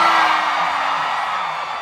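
A concert audience whoops, yells and cheers in one sustained, loud roar that fills the hall and fades only slightly.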